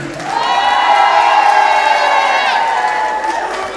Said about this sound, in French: On applaudit également les mariés juges.